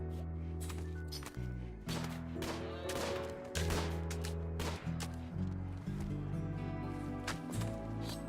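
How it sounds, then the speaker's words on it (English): Gunfire in the colony-building game RimWorld crackles in repeated bursts and single shots over a steady droning game soundtrack, with no talking. "There's a lot of gunfire."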